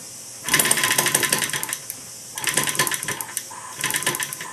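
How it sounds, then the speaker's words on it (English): Maier TA4 engine with only one cylinder attached, firing inconsistently: rapid rattling, clattering mechanical bursts that start and stop in uneven runs, loud and close, with no talking. "You can hear it's firing some, but not totally consistently."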